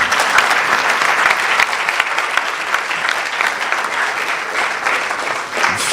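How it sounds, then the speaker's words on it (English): Crowd at the NSMQ 2025 national championship launch breaking into steady, loud applause for a sponsor, a thick continuous clatter of many hands lasting throughout. "So, this is how you clap for a sponsor."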